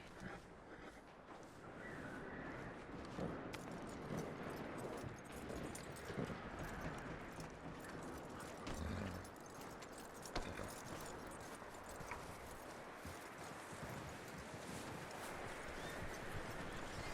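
Hooves clip-clopping at a steady walk in Red Dead Redemption 2, soft and somewhat distant, under a faint rattle of tack and ambient outdoor noise.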